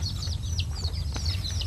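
Colorful rainbow chickens make soft clucks and high, chirpy peeps over a constant low background rumble, fairly faint and close together.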